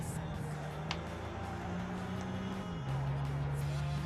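A car in the racing game Gran Turismo 6 drones steadily at high revs. Partway through, the pitch steps down with a gear change, and the engine noise grows slightly louder.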